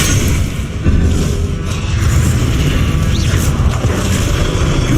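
A Repulso spell blast erupts in the Hogwarts Legacy video game, a loud, sustained booming burst with crashing texture that fills the whole stretch without pause.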